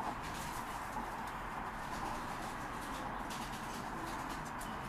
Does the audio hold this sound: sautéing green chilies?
no